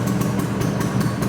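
A restored 1965 Vespa GL 150 scooter engine runs at a low, steady putter, with a regular pulsing beat throughout and no speech.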